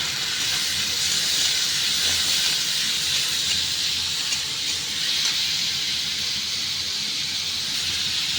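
Tomatoes hiss and sizzle steadily in a hot frying pan after hitting well-browned fried ingredients while cooking a South Indian dish, a continuous close, fairly loud sizzle with no talking.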